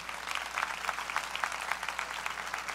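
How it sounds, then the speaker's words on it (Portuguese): A church youth congregation applauds after hymns of praise, steady mid-level clapping from a crowd with a rhythmic edge and no talk over it. "Uma salva de palmas para vocês"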